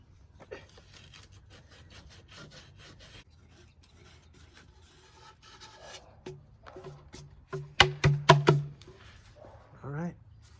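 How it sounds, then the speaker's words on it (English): The edges of a wooden sound hole on a camping guitar build are sanded by hand in short, scratchy rubbing strokes that start faint and grow louder, with a burst of quick passes near the end. "All right, sand off the edges."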